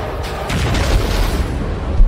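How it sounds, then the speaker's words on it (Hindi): Russian missile and artillery shell explosions in the Ukraine war produce a loud, continuous rumbling roar of booms with a sharper thud near the end. "पुतिन के जवान पुतिन की मिसाइलें और पुतिन के गोले"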